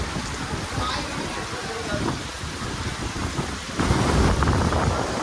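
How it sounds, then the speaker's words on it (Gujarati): Rushing water pours and splashes steadily on a water park family ride, growing louder near the end, with faint voices in the background. "આવી રીતે પાણી આવે છે આમાં"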